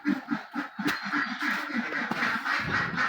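Domestic deshi ducks quacking on a small village farm, a rapid run of nasal quacks close by, several birds overlapping in a busy, uneven rhythm.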